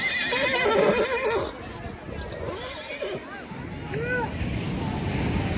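A horse whinnies in a few rising, wavering calls over a crowd's chatter at Somnath beach, with surf washing steadily in the background.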